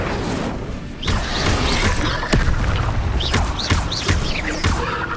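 Incendio fire spell cast in Hogwarts Legacy, rendered as a string of heavy booming bursts and thuds with whooshing flares and crackling impacts, loud and continuous through dense combat noise.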